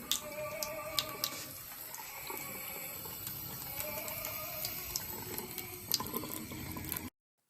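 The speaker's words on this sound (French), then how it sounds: "Un robinet ouvert remplissant un lavabo avec de l'opéra en fond." A running tap fills a sink with a steady splashing water stream, with faint opera music and occasional small clicks and knocks in the background, close and continuous before cutting off abruptly.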